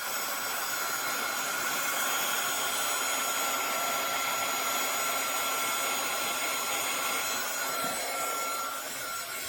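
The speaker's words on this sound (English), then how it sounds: "If you run that heat gun for too long" Steady, loud blowing hiss of a heat gun held over a greeting card to melt embossing powder, a constant airy roar that holds unchanged the whole time.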